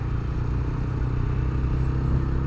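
A motorcycle cruises along a Dhaka city road at moderate speed, its engine droning low and steady up close with a constant rumble of wind and road noise.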